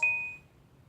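A phone notification ding rings out once, bright and clear, then fades over about half a second in a quiet indoor room during a purple-brow makeup session.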